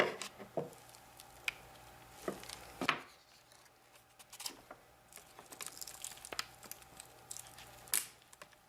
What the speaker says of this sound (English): I'm just going to try and pop it off here with these scissors